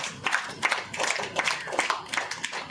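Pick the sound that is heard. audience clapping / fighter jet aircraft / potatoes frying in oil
audience clapping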